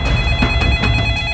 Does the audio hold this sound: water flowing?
no